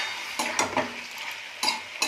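Chopped ivy gourd (kundli) being stir-fried in a pan, with a few scraping stirs of a utensil over a soft steady sizzle, close and moderately loud, no talking.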